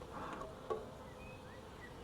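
Bees hum in a low, steady drone at an open beehive during an inspection, faint and close, with a brief louder buzz as one passes near.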